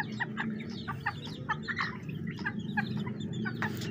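A chicken clucks repeatedly in short, rapid bursts over a low, steady background rumble.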